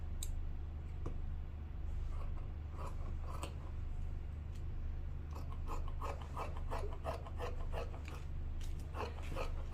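Scissors cut through apron fabric, making steady rasping snips and soft crunches at close range over a low background hum, with no speech.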